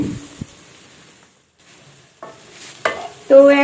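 A Bihari-style egg dish with tomato and whole garlic is stirred in a hot pan, giving short scraping strokes and a brief sizzle that come in bursts between quiet gaps.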